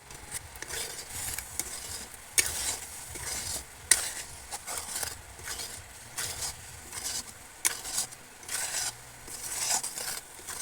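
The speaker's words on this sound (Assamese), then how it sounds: "এতিয়া আমি গুড়খিনি উতলাই আছোঁ।" Jaggery melting in hot water in a pot for sesame laddu, giving a steady bubbling simmer with irregular crackles and soft pops, close and moderately quiet, with no voices.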